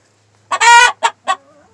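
A hen squawks loudly up close: one drawn-out harsh cry followed by two short clucks.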